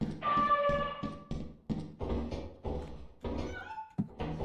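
A cat in the video game Lethal Company meows loudly and closely near the start, amid a series of heavy in-game thunks and knocks.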